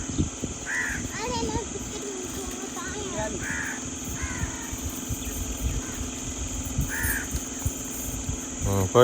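A crow caws several times at moderate distance outdoors, sharp separate calls spread across the stretch while people talk over a steady background hum.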